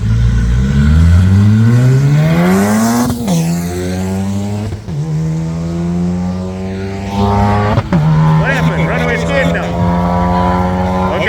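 A BMW M4 race car engine revving hard close by, rising through the gears with loud, climbing pitch sweeps and brief dips at each shift, while voices talk over it.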